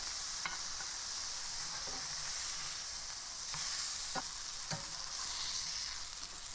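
Burger patties fry in a very hot pan with a steady, even sizzle, broken by a few faint clicks and light scrapes.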